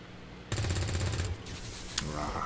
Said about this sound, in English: I'm just gonna shoot.